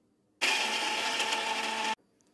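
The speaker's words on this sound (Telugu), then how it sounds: "దీన్ని ఇప్పుడు మిక్సీ వేస్తాను" A kitchen mixer grinder whirs loud and steady for about a second and a half as it blends curry leaves, walnuts and pumpkin seeds, starting and stopping abruptly with quiet before and after.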